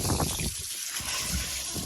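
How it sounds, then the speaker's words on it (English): Water from a garden hose on a cold, windy morning, a steady broadband rush and trickle running through the whole moment with a brief dip in the middle. "Yay, the hose works."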